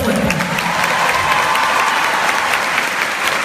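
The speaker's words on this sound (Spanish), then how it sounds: "Si le vas a dar un aplauso a Dios, dáselo fuerte." Congregation at a church service applauding loudly and continuously, a dense steady clatter of many hands with faint voices mixed in.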